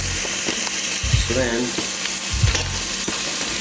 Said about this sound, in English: flip it over. Get that nice sizzle.